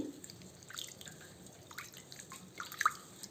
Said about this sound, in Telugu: వాటర్తో 2 టైమ్స్ బాగా క్లీన్ చేసేసుకుందామండి